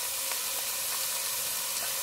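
Chopped onion sizzles in hot grapeseed oil in a pan, giving a steady, close hiss with faint crackles throughout.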